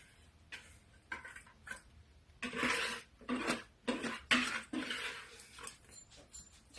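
Thick orange pie mixture is tipped from a bowl into an unoiled baking pan, giving a run of soft scraping, knocking and wet plopping sounds in irregular bursts, close by and moderately loud.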